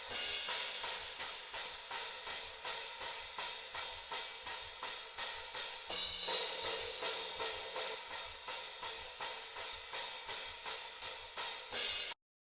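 Hi-hat cymbals alone, isolated from a full drum kit recording, tick in a fast, even pattern of crisp, sizzling hits, close and steady throughout with no voices.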